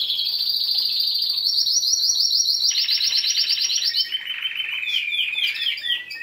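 Timbrado canaries singing continuously nearby in bright, rolling trills and chirps, shifting between different notes and textures without pause.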